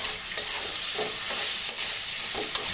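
Cumin paste hits hot oil for a pumpkin vine curry. A loud, continuous close-up sizzle runs throughout, broken by brief scraping stirs at irregular intervals.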